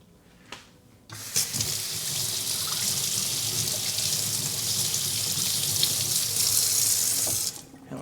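Running tap water pouring into a kitchen sink while something is rinsed during cookie baking, a steady loud hiss starting after a brief pause and cutting off near the end.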